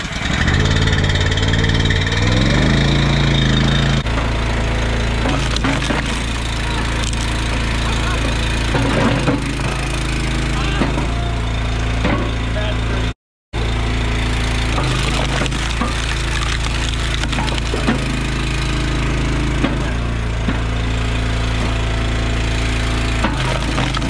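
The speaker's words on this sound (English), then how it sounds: "we'll get splitting and we'll talk more about the splitter at the end of the video" A commercial-grade log splitter works through firewood, its engine droning steadily and loudly throughout while wood cracks and splinters in sharp bursts over the top, with one brief dropout midway.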